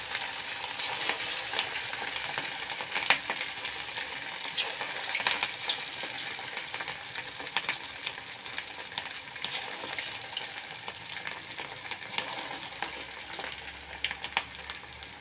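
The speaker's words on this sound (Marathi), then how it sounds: "तळण्यासाठी मी इथे तेल गरम करून घेतलेलं आहे। आता एक एक वडा मी याच्यामध्ये घालून घेते।" Fasting-style dahi vada fritters frying one by one in hot oil, a steady dense sizzle and crackle with scattered sharp pops, close and continuous throughout with no talking.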